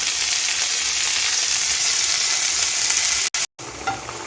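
Fenugreek leaves fry in hot white oil in a non-stick pan, making a loud, constant crackling sizzle with two brief gaps of silence near the end.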